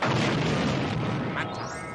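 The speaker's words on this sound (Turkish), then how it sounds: "Altı dinamit dokumunun oluşturduğu bir patlamaya benziyor." A cartoon dynamite blast, a loud booming roar that fills the whole two seconds and rumbles on without a sharp break, heard alone with no talking.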